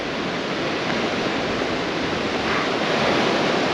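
Continuous roar of ocean surf and wind on a South Carolina beach, a dense steady wash of breaking waves with wind buffeting the microphone, no voices.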